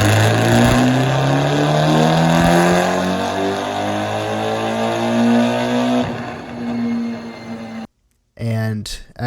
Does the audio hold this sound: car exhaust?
yes